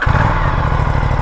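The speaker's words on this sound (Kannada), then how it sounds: "ನೋಡಿ ಇದ್ರ ಎಕ್ಸಾಸ್ಟ್ ನೋಟ್ ತೋರಿಸ್ತೀನಿ" An Aprilia RS 457 motorcycle, a 47 bhp sports bike, gives a loud, close, throbbing exhaust note in a short idling burst, with no talk.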